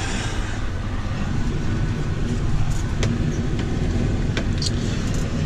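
A tractor with a silage mower works through second cut silage, giving a continuous low engine rumble with mechanical clatter and a few sharp clicks, close and steady throughout.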